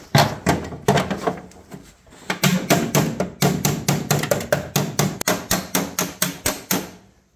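A hammer strikes the body panel of a 1972 BMW 2002, flattening it against the heel of a dolly: sharp, ringing metallic blows, close and loud, falling in a quick steady rhythm of roughly two or three per second.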